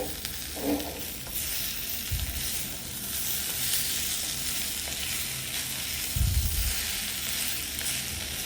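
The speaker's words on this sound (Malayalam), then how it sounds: "അതിൻ്റെ കുറച്ചൊരു എണ്ണ അതിലേക്ക് ഡ്രിസിൽ ചെയ്യുക. എന്നിട്ട് വീണ്ടും നന്നായിട്ട് സോട്ട് ചെയ്യുക." Chicken sizzles as it is sautéed in oil in a pan for Kerala-style chicken ularthiyathu, a steady frying hiss with a couple of brief stirring scrapes and no talk.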